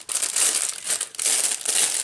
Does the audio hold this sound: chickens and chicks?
no